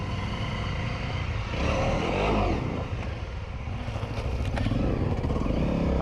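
A Honda CRF250L dirt bike on a wooded trail, its engine revving and surging close by as the rider works over logs, with clattering and scraping amid the steady motor drone.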